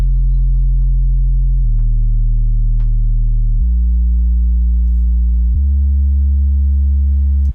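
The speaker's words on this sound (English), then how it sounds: "one more sub bass in the breakdown" A deep house breakdown carries a sub bass synth alone: four long, smooth, sustained low notes, each stepping to a new pitch, loud and steady without any drums or voices.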